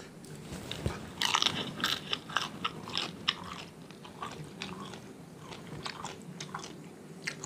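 Crispy fried shrimp being bitten and chewed close up, a run of sharp crunches in an uneven rhythm that fades to quieter chewing, with no talk over it.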